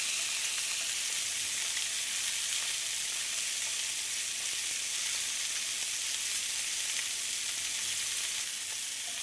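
Pieces of halibut fry in a pan with a steady, close, even sizzle that holds at the same level throughout, with no voices over it.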